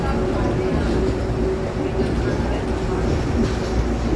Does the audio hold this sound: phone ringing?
no